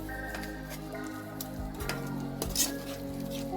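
Chili masala frying in oil for chicken biryani, a low continuous sizzle with occasional spoon scrapes and clinks as it is mixed, heard over a steady tonal hum, without speech.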